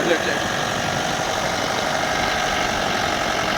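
Vehicle engine idling and running steadily in an Independence Day parade, a continuous loud mid-pitched hum with faint vibration throughout.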